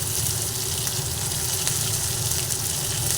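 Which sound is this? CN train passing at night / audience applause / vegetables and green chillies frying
vegetables and green chillies frying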